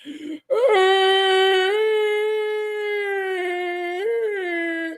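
A human voice imitates a blue whale mating call with a long, loud, wavering low howl that rises and falls slightly and holds for several seconds, close to the mic.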